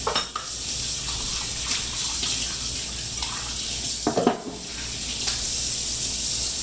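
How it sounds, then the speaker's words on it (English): Water runs steadily from a kitchen sink tap as hands are rinsed, a close, continuous splashing rush with brief shifts in flow and a few handling knocks. "just gonna rinse my hands"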